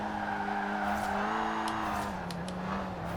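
A Citroen DS on race tires slides into oversteer in Forza Horizon 4, its tires scrubbing and squealing over a steady, loud engine whine that holds through the whole moment.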